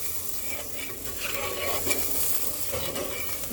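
Fish curry made with roe-filled koi fish is stirred in a pan just after water is added, giving a steady, close scraping and gentle bubbling sizzle with no talking.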